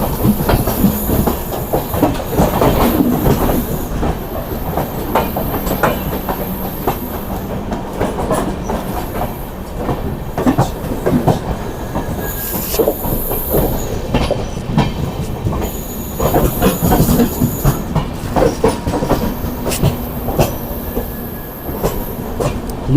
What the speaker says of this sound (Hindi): जी हाँ, ये गोल्डन टेम्पल मेल के साथ क्रॉसिंग हो रही है हमारी